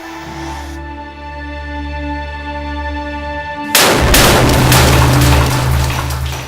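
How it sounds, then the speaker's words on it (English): In a mine, a deep, sudden blast of explosive charges shattering rock bursts out after a steady machine drone, followed by rumbling, crackling debris noise that lingers loudly. "He waits to hear the boom of shattering rock."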